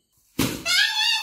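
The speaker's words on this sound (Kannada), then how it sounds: "ಅಷ್ಟರ ಮಟ್ಟಿಗೆ ಪಟಾಕಿ ಹೊಡಿತಾ ಇದಾರೆ ಇವ್ರುಗಳೆಲ್ಲ ಸೇರಿ" A single Diwali firecracker bursts nearby with a sharp, loud bang, followed by a short hissing, ringing tail.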